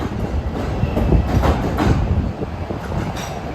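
CTA Pink Line train running westbound toward 54th/Cermak on the platformless track, a loud steady rumble of wheels on rail with clickety-clack beats, close and continuous, no talking.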